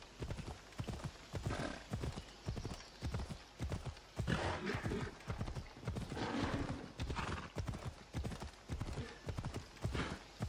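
A horse gallops in the Assassin's Creed Odyssey video game, with steady rapid hoofbeats throughout and an occasional whinny, loud and continuous.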